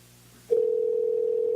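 A single steady telephone ringback tone sounds at a constant pitch as a call is placed to connect with a podcast guest, starting abruptly and holding loud and unbroken after a brief quiet lead-in.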